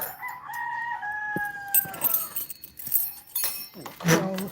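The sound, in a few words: rooster crowing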